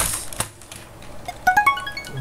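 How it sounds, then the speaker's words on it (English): A computer keyboard shifted into position on a desk makes a few sharp clacks and clicks, scattered and close, with a short run of bright electronic beeps near the end. "Let me actually adjust my keyboard position first."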